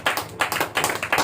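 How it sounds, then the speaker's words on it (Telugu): A church congregation claps in brisk, uneven bursts of many hands, close and fairly loud, with no talk over it. "చప్పట్లు కొడదాం."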